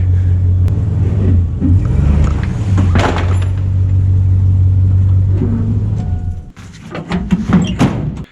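A vehicle engine idles and pulls forward with a steady low rumble as an old Kawasaki ATV rolls off the back, followed by clunks and knocks as the engine noise drops away near the end.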